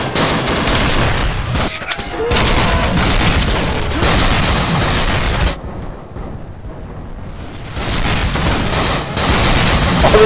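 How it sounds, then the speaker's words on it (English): Grenade explosions and gunfire erupt in the World War II dinosaur shooter game Dino D-Day, dense rapid booms and bursts filling most of the stretch, with a brief quieter lull midway and more blasts after. "The explosions!"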